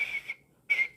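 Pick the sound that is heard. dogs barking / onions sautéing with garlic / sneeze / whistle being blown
whistle being blown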